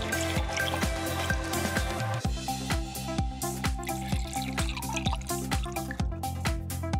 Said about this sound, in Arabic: رح اسكب مي سخنة للكاستين